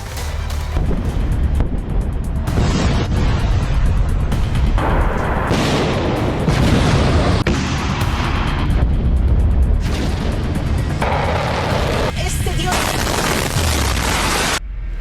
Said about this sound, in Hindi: ईरान तेल अवीव को निशाना बना रहा है और इजराइल ईरान के मिसाइल को इंटरसेप्ट कर रहा है।